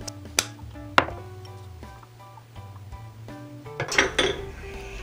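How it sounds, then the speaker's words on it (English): Tteokbokki being plated, with clear ceramic dishes and metal utensils clinking and knocking in a few sharp, close hits spread through a short quiet stretch, ending in a busier flurry of clatter. "Put the tteokbokki in a plate and sprinkle black pepper and put green onion garnish on it."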